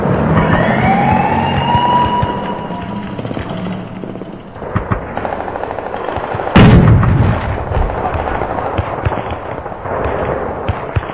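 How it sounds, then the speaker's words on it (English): Gunfire and booming artillery hammer a base in the video game Occupation Force Vietnam, a dense, loud battlefield din of shots and heavy blasts with a tonal wail early on and a big explosion midway, no voices. "Keep these guys from shooting at my base."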